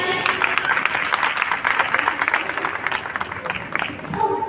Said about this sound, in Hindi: तो एक बार उन सभी के लिए जोरदार तालियां हो जाएं